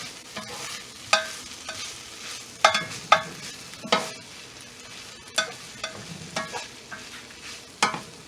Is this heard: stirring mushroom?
yes